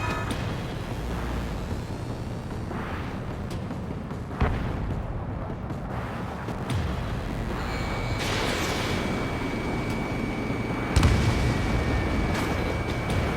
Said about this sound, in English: The harbor is under heavy fire!